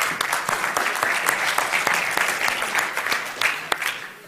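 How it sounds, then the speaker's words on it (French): An audience claps for a prize winner at a French talk, dense and fairly loud applause that holds steady for several seconds before tapering off at the end. "On peut l'applaudir?"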